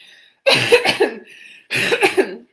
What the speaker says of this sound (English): probably going to have to cough again